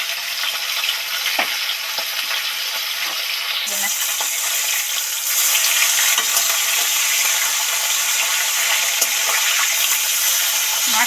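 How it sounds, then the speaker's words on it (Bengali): Pieces of catla fish sizzle steadily in hot oil in a kadai, a constant broadband frying hiss that grows louder partway through as more fish go in, with a few faint clinks. "এবার একটা একটা মাছ তেলের মধ্যে উঠিয়ে দেবো"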